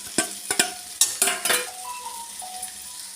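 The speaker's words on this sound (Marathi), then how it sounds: "आता याच्यात भेंडी टाकून देते." Okra dropped into sizzling masala in a pan, a few sharp clattering impacts up front followed by a softer frying hiss and faint stirring, close and with no voices.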